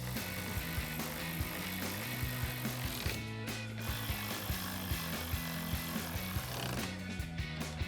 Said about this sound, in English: And then we'll take a T50 Torx socket and tighten those down.